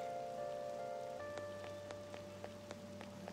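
Steady rain ambience from the video game Persona 5 Royal, a soft continuous patter of drops on a surface with occasional sharper drip ticks, heard alone beneath quiet game music tones.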